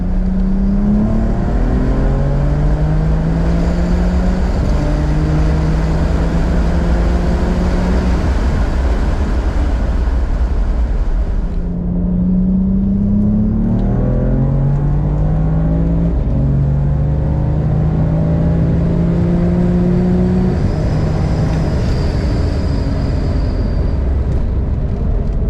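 A BMW with an N54 engine accelerating hard down a drag strip in no-prep runs, loud sustained engine roar with rising pitch sweeps, repeated gear-shift breaks and a brief pause before a second pull, with no talking.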